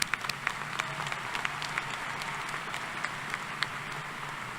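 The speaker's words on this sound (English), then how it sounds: "Let's continue that round of applause." A commencement audience keeps clapping in a large hall, a soft, even patter of many hands with a few louder individual claps, heard from a distance and without talk.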